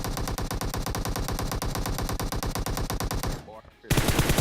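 Rapid bursts of automatic gunfire in PUBG Mobile, loud and rhythmic, stopping briefly before another loud burst near the end.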